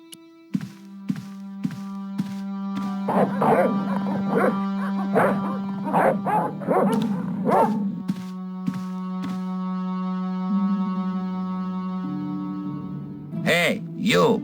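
Dogs barking in the video game Broken Sword: Shadow of the Templars, a series of sharp, evenly spaced barks over a steady tonal game score, with a voice speaking partway through.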